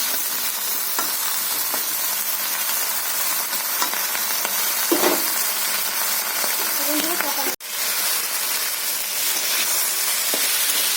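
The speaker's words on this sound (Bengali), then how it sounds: "সিম, আলু এবং বেগুন আমি একসঙ্গে ভেজে নেব" Beans, potato and eggplant fry together in oil in a pan, a continuous close hiss and crackle with stirring scrapes and a sharp knock near the end, no speech.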